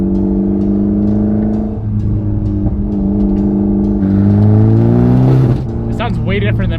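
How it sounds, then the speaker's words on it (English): Mitsubishi Evo X fitted with a Tomei titanium exhaust, a steady revving drone that swells and then cuts off into sharp crackling pops, close by, with someone speaking over it. "Do you hear that pop and backfire?"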